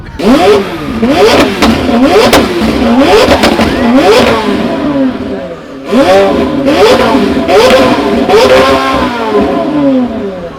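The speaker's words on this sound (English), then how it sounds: "Hamilton Collection's revving their 765" A McLaren 765 supercar engine revs hard and close in repeated rising-and-falling bursts, a brief pause in the middle, loud and dominant at a hypercar collection event.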